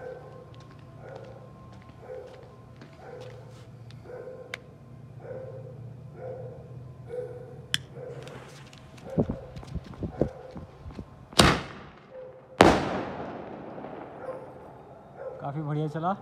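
Diwali sky shot fireworks set off in sequence: a sharp whoosh and crack near 11 seconds, then a louder burst with a long fading hiss, after a stretch of rhythmic background clatter.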